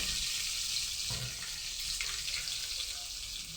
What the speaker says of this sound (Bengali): এবার দিয়ে দিলাম হালকা কুসুম গরম পানি